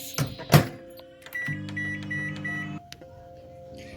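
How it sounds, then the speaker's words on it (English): A microwave oven heats a chocolate Nutella lava mug cake, its low steady hum running for about a second alongside faint electronic tones, after a couple of sharp knocks near the start. "we're gonna put it in the microwave for"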